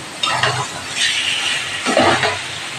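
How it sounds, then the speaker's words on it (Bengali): Fish is stir-fried in a pan, with a steady sizzle and a few scraping, clinking strokes of the spatula, close and moderately loud, with no talking. "বন্ধুরা আমি একটু কষিয়ে নিই ভালো করে"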